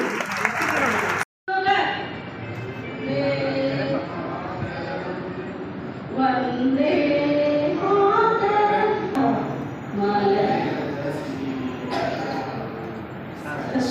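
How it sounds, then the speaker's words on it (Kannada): A crowd at an election campaign stage applauds in a broad wash of clapping that runs under a loud amplified voice and other stage sound. "ದಯವಿಟ್ಟು ಎಲ್ಲರೂ ಜೋರಾಗಿ ಚಪ್ಪಾಳೆ ಮಾಡಿ ಸ್ವಾಗತ ಕೋರಿ"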